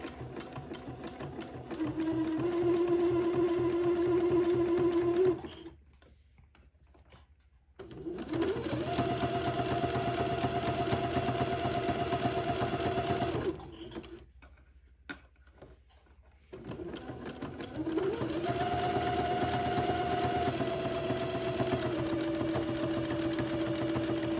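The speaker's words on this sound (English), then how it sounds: "now I'm going to finish off this entree seam by doing a zigzag" A sewing machine runs zigzag stitches along the seam of a little white dress, three bursts of steady whirring hum separated by short pauses, close and clear with no talk.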